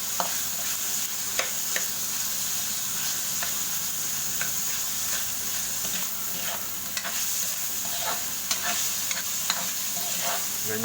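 Laing being stirred in a pan as bacon fries in it, a steady loud sizzle with scraping stir strokes recurring throughout, close up and with no voices.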